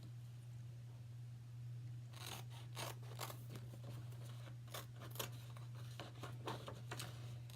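Scissors cut out Red Sox and Yankees shapes for a Chalk Couture banner: a run of close, crisp snips starts after a quiet stretch, over a steady low hum.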